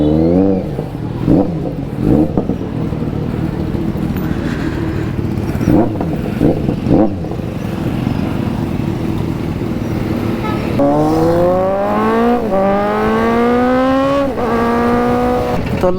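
A Kawasaki Z900 motorcycle fitted with an aftermarket exhaust revving, loud and close: sharp throttle blips early, then long rising engine sweeps climbing in pitch several times in a row.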